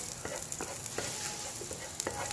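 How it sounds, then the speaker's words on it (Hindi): Garlic sautés in a pan for a chicken burger, making a soft, steady sizzle with light scraping stir clicks now and then, quiet and close, with no one speaking. "पहले हम लहसुन ऐड कर देंगे इसमें लहसुन को हम थोड़ा सौते करेंगे"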